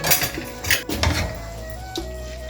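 Turmeric being stirred into green chillies in a metal pan, with a spoon scraping and clinking against the pan in quick irregular strokes and a soft sizzle underneath, close up and with no talking.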